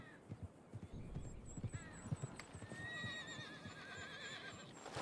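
A horse in the video game Red Dead Redemption 2 gives a long, clear whinny, with hooves clopping in a steady rhythm beneath it and faint outdoor ambience, no talking.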